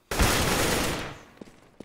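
Counter-Strike gunfire on the Cobblestone map, a loud close burst of automatic spray that fades out, followed by a couple of brief sharp clicks or shots.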